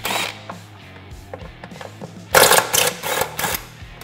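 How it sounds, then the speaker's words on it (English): Bolts come off the clutch cover of a Polaris RZR XP Turbo with a ratcheting tool: soft clicks and mechanical clatter, then a fast burst of loud rattling ratchet strokes near the end. "Then we're gonna remove all of the clutch cover bolts."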